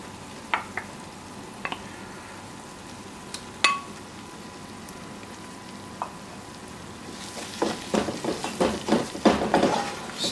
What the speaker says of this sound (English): Stir it nicely